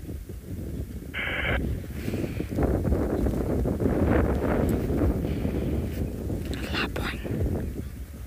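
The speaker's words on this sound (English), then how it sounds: "the wind is picked up at tenfold. So it may be slightly windy" Steady wind buffeting the microphone beside a dam on a morning safari in South Africa, a broad rushing roar with faint bird calls and some soft speech underneath.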